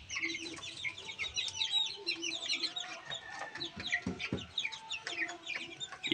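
Growing chicks in a poultry pen keep up a busy chorus of high cheeps and soft clucks, close and continuous, with no other sounds over them.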